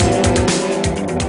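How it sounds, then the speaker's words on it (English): Toyota four-wheel-drive rally car racing at the 1990 Safari Rally Kenya, a loud close engine roar with tyre and skidding noise that surges in steady pulses throughout. "Now Valdegaard takes the lead in his Toyota"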